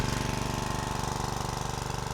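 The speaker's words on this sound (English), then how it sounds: "And look at that, 2 pulls. It's a good quality engine right there." A small gasoline engine on a log splitter runs steadily, loud and close. Its rapid, even exhaust pulses give a chugging rhythm with no talk over it.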